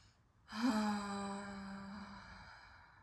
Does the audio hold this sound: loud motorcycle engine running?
no